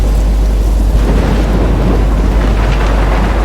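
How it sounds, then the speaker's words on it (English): A thunderstorm in the video game Life is Strange roars as a loud, continuous wash of heavy rain with deep rumbling thunder underneath, dense and unbroken with no voices. "I'm trapped in a storm."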